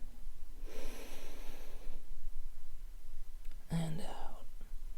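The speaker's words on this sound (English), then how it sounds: "I'm going to take a deep breath in" A slow, deep breath drawn in and let out in a quiet, soft-spoken relaxation setting, a close airy inhale, a pause, then a brief breathy release.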